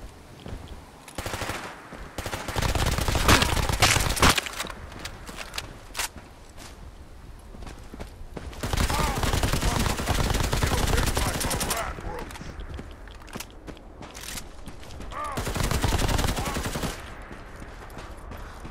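Automatic gunfire in Fallout 4 running a photorealistic mod comes in three loud, rapid bursts, separated by quieter gaps with scattered single shots and footstep-like clatter.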